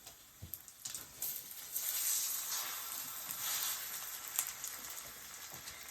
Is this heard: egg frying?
yes